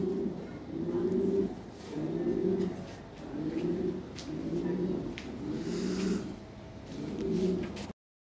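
Lahori Sirazi pigeons coo close by in repeated low, throaty rolling phrases, about six even bursts with short pauses between them.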